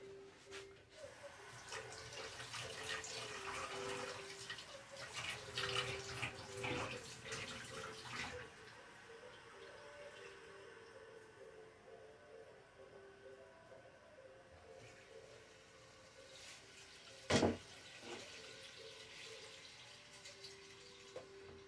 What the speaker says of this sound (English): I need 1 2/3 cup of warm water.